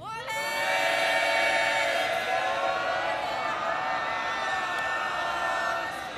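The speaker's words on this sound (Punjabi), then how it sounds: "ਜ਼ਰਾ ਇਹ ਸੋਚ ਕੇ ਇੱਕ ਜੈਕਾਰਾ ਬੁਲਾਓ।" A Sikh congregation shouts a Jaikara chant together in a loud, sustained collective roar from a large crowd, rising quickly and holding for several seconds.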